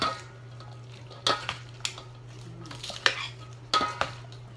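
Utensils stirring and tossing a plant-based, oil-free southwestern salad with avocado in a bowl, giving a series of irregular clinks and scrapes of metal against the dish over a low steady hum.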